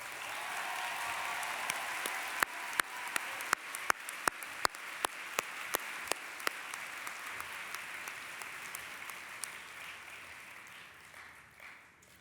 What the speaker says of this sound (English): give them a giant round of applause